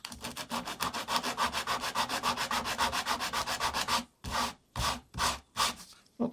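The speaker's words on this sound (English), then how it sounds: "So a bit of sandpaper." Sandpaper rubbing back and forth along the edge of a laser-cut wooden wagon kit part, a fast steady rasping rhythm of close strokes that slows into a few separate, longer passes near the end.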